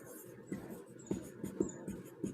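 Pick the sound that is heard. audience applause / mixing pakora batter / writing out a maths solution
writing out a maths solution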